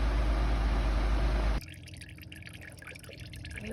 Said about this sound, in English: Drain the oil.